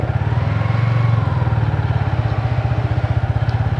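A motorcycle engine thumps in a steady, close rhythm during a monsoon-season ride, swelling slightly at the start and then holding a loud, even beat without talk.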